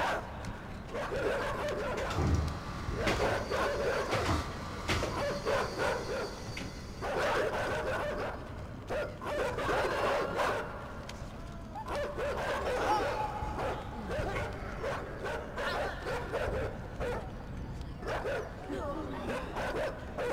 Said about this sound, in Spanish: Como que los perros no pueden hacer nada.